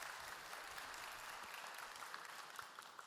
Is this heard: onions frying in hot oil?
no